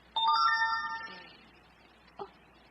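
A phone chimes once with a short melodic text message tone, bright and clear, followed by a faint knock-like tick.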